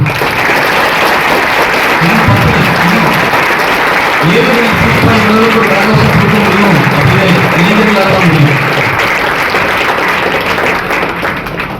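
An audience at a formal Tamil event applauds a guest speaker being invited to the stage, sustained loud clapping from a large crowd with a voice speaking over it partway through.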